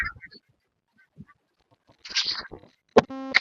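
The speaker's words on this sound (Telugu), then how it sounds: "ఇక్కడ సౌండ్ ఉంటుంది, బాతుల సౌండ్." Ducks kept by a shed at the LMD dam near Karimnagar, a few scattered distant quacks and honks, then a louder nearby burst of calls, over a mostly quiet outdoor background.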